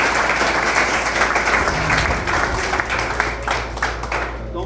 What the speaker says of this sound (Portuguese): E então peço uma salva de palmas para a diretoria.